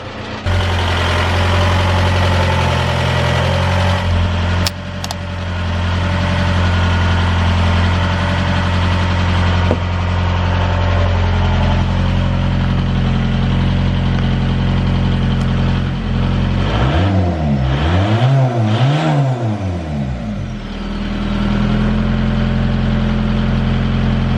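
A loud mechanically injected turbo diesel Jetta engine runs steadily and close up, with a low rumbling drone and a brief wavering rev near the end.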